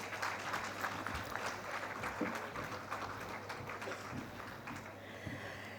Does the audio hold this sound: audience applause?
yes